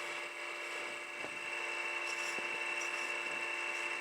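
A power tool trims an olive wood ring in a steady, moderately quiet whine with a few faint clicks, running continuously without speech.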